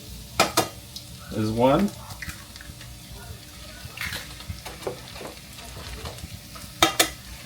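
Eggs poured into a pan of chorizo and potatoes, giving a soft frying sizzle under scattered clinks of utensils and a brief tapping, with a person talking nearby.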